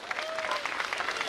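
A crowd claps steadily at an outdoor political campaign rally, a dense patter of applause throughout with a faint sustained tone mixed in briefly near the start.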